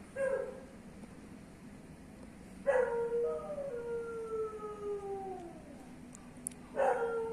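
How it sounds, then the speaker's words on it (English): A dog howls at night in three long, wavering bursts, each rising then sliding slowly downward, moderately near and alone with no talk. "if you're hearing howling, like that's a dog"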